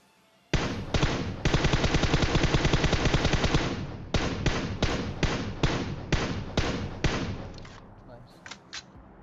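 Gunfire in PUBG Mobile: a long rapid automatic burst, then a string of sharp, evenly spaced shots that fade into a few scattered faint pops, loud and close.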